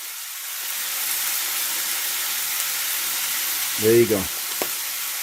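Pork adobo seasoned with black pepper and garlic powder sizzles steadily in a pan, a close, even frying hiss throughout, with a brief spoken remark near the end.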